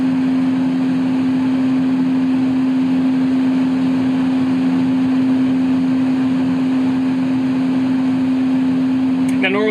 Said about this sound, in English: verify that you're turning off the APU and you just go stop